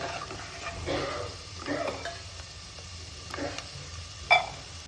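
Dried prawns (sode) crackle in a pan as they finish frying golden brown, with a few soft scattered pops and stirring scrapes, one sharper pop near the end, fairly quiet and close.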